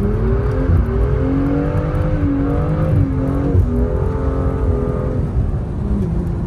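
A car with a manual clutch pulls away as the driver gives it gas, its engine note rising and falling in several revving pushes, close and loud with no talking.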